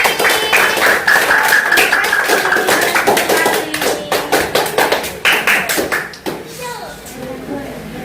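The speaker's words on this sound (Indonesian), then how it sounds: "ya tepuk tangan dulu buat kelompok sapi" A classroom of children claps for the cow group during an Islamic studies lesson, with a quick burst of scattered, overlapping claps that thins out after several seconds while voices murmur around it.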